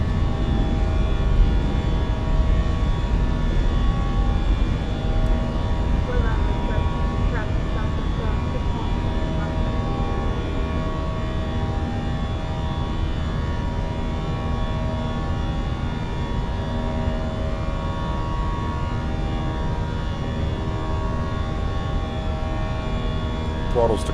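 Steady, loud jet roar of an Airbus A320's engines climbing after takeoff in Microsoft Flight Simulator 2024, a continuous dense drone with faint tonal whine layered over it, unchanging throughout.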